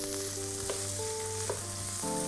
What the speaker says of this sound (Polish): na patelnię z rozgrzanym olejem wrzucamy tofu. I smażymy je tak długo, aż się przyrumieni z każdej strony.